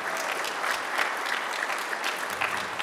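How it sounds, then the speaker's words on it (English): An audience at a Kansas City startup pitch event gives a sustained round of applause, dense steady clapping from many hands throughout with no pauses. "I want to give him a round of applause"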